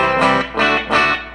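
Electric guitar through an amp with the tone control turned fully up, giving a bright, top-heavy sound: three loud strummed chords ring out one after another, each with a sharp attack and a short sustain.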